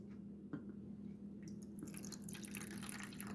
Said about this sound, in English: now what we're going to do is put the water into the reservoir on top